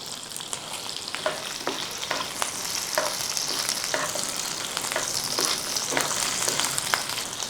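Red chilies and onions fry in a pan with a steady close sizzle, while a utensil stirs and taps against the pan at a regular pace.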